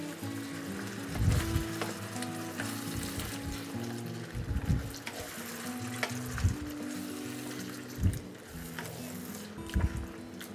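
Browning mince sizzles and bubbles in a pan after canned tomatoes and a stock cube are added, with a steady fizz under irregular clunks and scrapes of stirring every couple of seconds.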